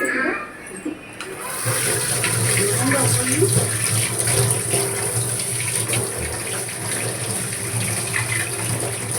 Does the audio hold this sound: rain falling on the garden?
no